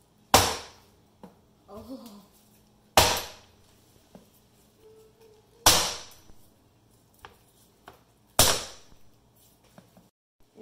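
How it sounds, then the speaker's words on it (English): A raw coconut being whacked to crack it open, four sharp, loud cracking impacts spaced a few seconds apart, with smaller knocks and handling noises between them and a brief voice. "you have to spin the coconut around and you have to whack it."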